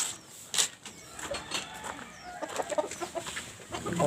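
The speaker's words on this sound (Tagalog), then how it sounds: "Yan guys, ang aking mga alagang manok." Several chickens cluck close by, with scattered sharper calls and light background noise from the yard.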